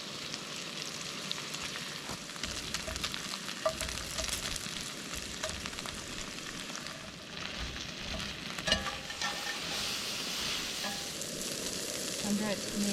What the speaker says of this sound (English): in goes the garlic